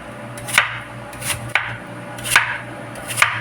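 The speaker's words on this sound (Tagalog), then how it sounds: "Slice ko lang ng maninipis." Knife slicing food thinly on a cutting board, four distinct crisp chops spaced about a second apart, close and clear over a faint low background hum.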